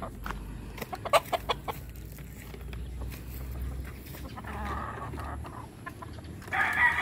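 A rooster clucks in short, scattered bursts, fairly close, with quiet background noise and no talking.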